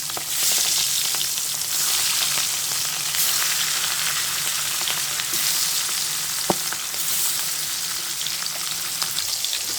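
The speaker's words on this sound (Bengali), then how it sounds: "মাছগুলো দিয়ে দিচ্ছি তেলটা গরম হয়ে গেছে" Hilsa fish sizzles loudly in hot oil, a dense, even crackle that carries on without a break, with one sharp pop partway through.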